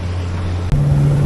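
A Gemini Wave Rider 650 rib boat speeding over open water at about 22 knots gives a steady, loud outboard engine drone with wind rush, its pitch stepping up briefly partway through.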